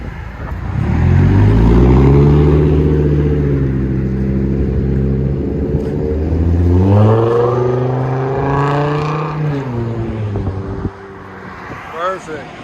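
A Chevy Colorado 3.5 five-cylinder engine with straight-pipe exhaust, loud and close. The exhaust rumbles, rises and falls through revs, then fades toward idle. A voice talks over parts of it.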